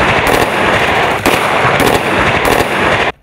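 Loud, dense machine-gun fire crackles without a break during the final live-fire shooting of a police exercise at the range in Vyzhlovichi, with overlapping bursts close to the listener.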